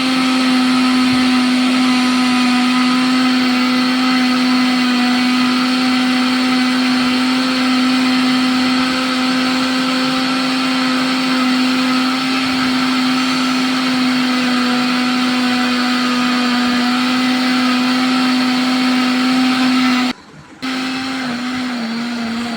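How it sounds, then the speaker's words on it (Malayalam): A mixer grinder grinds soaked rice into batter for kudangal appam with a loud, steady motor whine that runs unbroken for over twenty seconds. It dips once briefly near the end, then resumes, with no talk. "അങ്ങനെ അരയാൻ തുടങ്ങിയിട്ടുണ്ട്"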